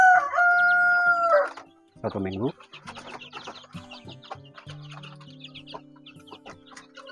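Chickens cluck and chirp nearby, including two-week-old chicks, with a loud crow-like call at the start, then a scattered run of clucks under a quiet voice.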